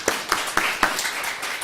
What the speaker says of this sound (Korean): 이때 한번 박수를 한번 쳐야 돼요